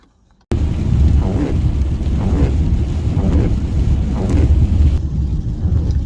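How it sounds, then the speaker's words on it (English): Heavy rain roars in a dense, constant wash, with low rumbling like traffic or wind beneath it; the sound starts abruptly after a brief near-silence. "It is raining like crazy"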